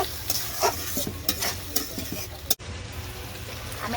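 Potatoes stirred and sautéed in hot oil in a pan, a steady close sizzle with scraping stir strokes and a brief utensil knock near the end.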